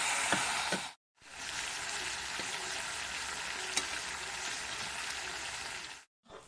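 Chicken curry being stirred in a pan, a dense, steady sizzle with occasional utensil knocks heard close, cut by two brief silences at the edges and no speech.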